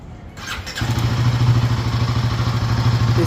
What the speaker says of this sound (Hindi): अब ये वाली हिमालयन है, इसकी आवाज़ सुनाता हूँ